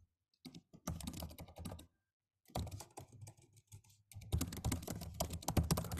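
Bursts of rapid typing on a computer keyboard, close and clear, with short pauses between runs of keystrokes and no talking.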